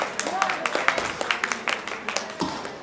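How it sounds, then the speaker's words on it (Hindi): An audience at a wedding mehendi event claps in loose, scattered bursts, a few hands at a time rather than a full ovation, close by and fairly sparse. "चलो एक बार जोरदार तालियां बजाएं"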